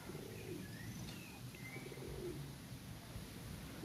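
Pigeons or doves cooing with scattered bird chirps in the Praça do Peixe town square of Campo Grande, soft calls over a steady outdoor ambient hum.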